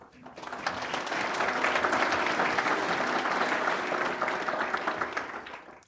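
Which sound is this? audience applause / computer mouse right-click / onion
audience applause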